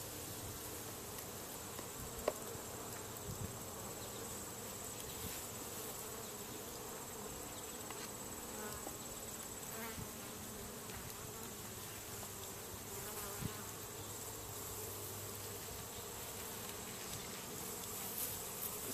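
Honey bees hum in a dense, constant drone at an open hive during a honey harvest, close and steady, with occasional faint clicks and no talking.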